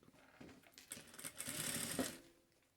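A sewing machine stitching fabric for a multipurpose organizer, a short quiet run of rapid needle clatter that speeds up and then stops, heard close with no talking.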